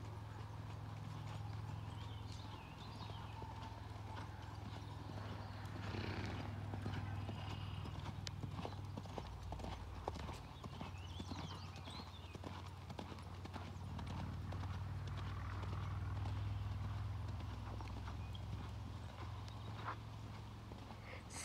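A horse canters in a pleasure riding session, its hooves clip-clopping in a quick, steady rhythm at moderate distance, with a brief whinny and a low background rumble.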